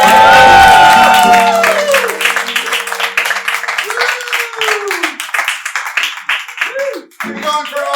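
Audience applause and cheering for the musical guest at a live late-night show in a club, loud and dense at first with a musical tone, then thinning into scattered claps with a voice speaking over it.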